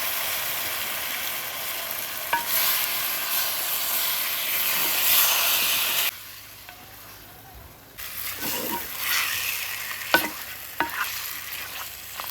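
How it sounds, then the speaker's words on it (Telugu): Country chicken frying in oil in a pan, a steady sizzling hiss with stirring scrapes and a few sharp clinks, dropping quieter midway before the sizzle rises again. "ఈ చికెన్ అయితే కొంచెం నూనెలో మంచిగా ఫ్రై కావాలి"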